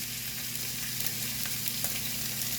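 Chicken pieces sear presentation side down in a skillet heated over medium-high heat, giving a steady, close, even sizzle and crackle with no talking.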